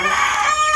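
Sebright chickens giving a brief, close burst of clucking and vocalizing among a flock, with no talk.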